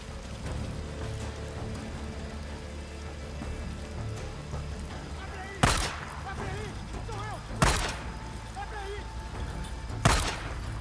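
Three sharp gunshots ring out in the zombie-survival video game Days Gone, spaced a couple of seconds apart over a steady rain-like ambient wash, while someone talks quietly beneath the game sounds.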